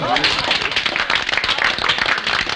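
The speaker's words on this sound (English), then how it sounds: "Round of applause, please." Audience at a 1963 Christmas stage show claps in a lively but brief round, heard under and mixed with voices talking over it.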